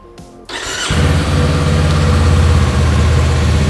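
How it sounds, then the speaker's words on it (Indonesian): A Kawasaki Eliminator 500 inline two-cylinder motorcycle engine idles steadily after a short start, its exhaust a deep, bassy, even throb that stays loud and close throughout. "Ini posisi stasioner, cukup ngebas ya suara knalpotnya"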